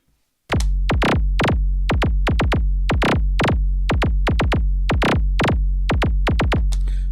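A Roland TR-8S drum machine pattern starts after a short silence and plays loud, booming percussive hits in a looping rhythm. Some steps are divided by four and by three, giving quick clustered rolls between the main beats.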